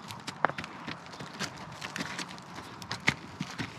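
An Arabian horse's hooves clip-clop in an irregular rhythm at moderate distance, scattered sharp strikes standing out over a faint outdoor background, with no one speaking.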